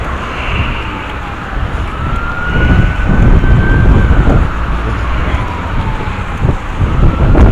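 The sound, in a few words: ambulance or truck siren passing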